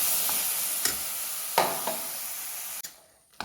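Tomato paste ground from fresh tomato poured into spices frying in a pan, a loud continuous sizzle with a few sharp stirring clacks and bursts, fading near the end before one last crackle.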